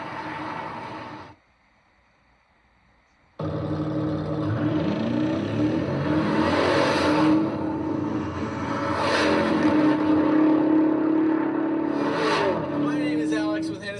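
A powerful Lamborghini Urus SUV engine hums and surges steadily while driving in the rain, cutting out briefly near the start, with road noise beneath and talking over it.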